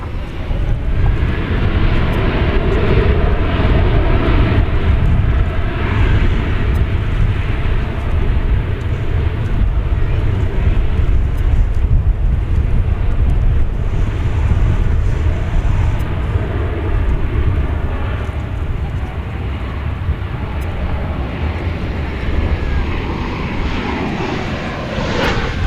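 An American Airlines jet taking off from runway 18 Left at DFW Airport, its engines giving a loud, steady, broad roar with low rumble that holds for the whole stretch and fades slightly toward the end.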